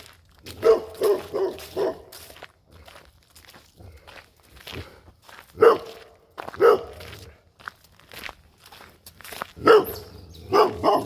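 Several dogs bark in the woods, including a big dog, with repeated sharp barks and yips close by, mixed with footsteps and rustling on the trail between bursts.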